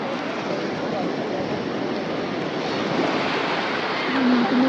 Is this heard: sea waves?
yes